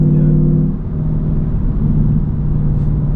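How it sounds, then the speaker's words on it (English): A 2022 Ford Mustang GT with a 10-speed transmission at night, its engine a steady, loud low rumble from inside the cabin, droning on evenly as the car drives. "this car just sounds majestic"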